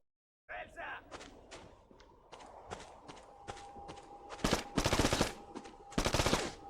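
Gunfire in the shooting video game Black: rapid bursts of shots building in intensity, with loud sustained automatic volleys near the end and a steady tone beneath.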